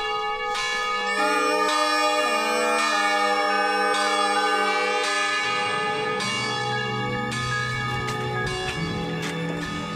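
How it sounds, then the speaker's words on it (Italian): Church bells rung festively, several bells clanging and overlapping in a bright, ringing peal that carries on steadily, close and loud, with no voices. "Donà, va a suonare campana a festa."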